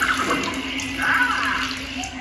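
A water spray effect in the Muppet Vision 3D show at Disney's Hollywood Studios hisses and splashes steadily over the audience. Faint crowd noise sits underneath.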